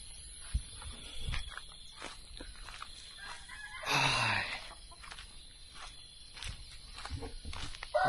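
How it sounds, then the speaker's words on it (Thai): A rooster crows once in the distance over a quiet morning backdrop of faint insect chirps and light rustling. "มีเสียงไก่ขันเนาะ"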